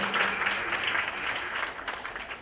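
An audience at a Shrimad Bhagwat Katha religious discourse claps to welcome a guest, a steady, dense round of applause that carries evenly through the short stretch with no voices over it.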